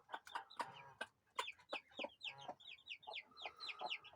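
Several chicks cheep and cluck in quick, irregular bursts nearby, a busy flutter of small high calls mixed with lower hen-like clucks.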